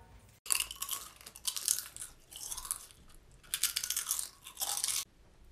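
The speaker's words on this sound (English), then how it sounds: "Can you stop chewing so goddamn loud?" Chips being chewed loudly, crisp crunching bursts in repeated bites close to the microphone with brief pauses between them.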